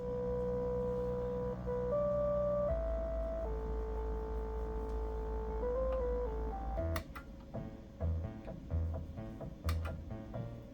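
Chiptune-style music from the Skyroads Christmas Special game plays on an old eMachines eTower 266 PC, steady tonal melody lines over a low hum, shifting to choppier bouncing notes and clicks in the second half, no talk.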